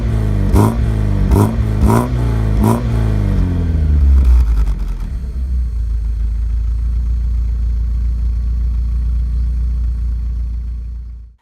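A 1983 Porsche 944 engine blips through four quick, sharp revs, climbs into a longer rise, then settles into a steady, deep idle, loud and close with no talking.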